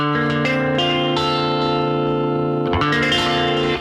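An electric guitar minor seventh chord rings out and sustains with a mellow, slightly effected tone, then gets re-struck near the end, up close with no talking.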